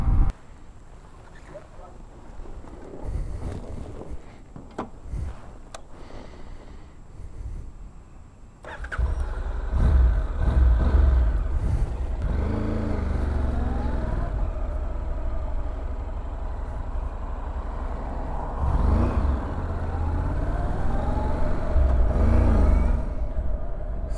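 A Honda NC700X motorcycle on a test ride, its engine a steady low rumble that swells as it gets under way, with wind noise throughout.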